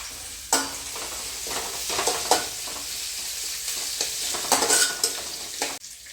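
Green chilies and sliced onion frying in a hot pan, a steady close sizzle broken by a few sharp spatula scrapes and stirs, no voices.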